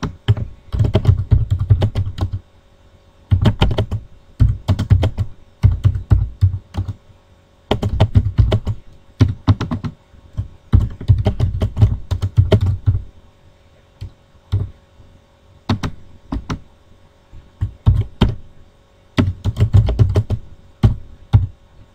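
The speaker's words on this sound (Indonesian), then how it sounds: "kita ketik dulu sampai selesai" Fingers type on a computer keyboard in dense bursts of clicking keystrokes separated by short pauses, close and loud, with no talking.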